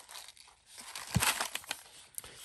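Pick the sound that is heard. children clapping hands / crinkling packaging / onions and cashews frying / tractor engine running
crinkling packaging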